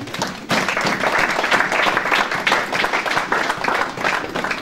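Church congregation breaking into applause after a Bible reading, steady dense clapping from many hands filling the room, sustained and fairly loud throughout.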